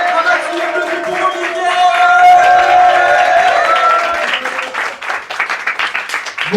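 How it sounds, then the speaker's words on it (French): Applause from a comedy club crowd at Au Grizzly in Bordeaux, rising over some background music and then breaking into separate, sharper claps near the end. "applaudissez très fort pour le prochain, s'il vous plaît."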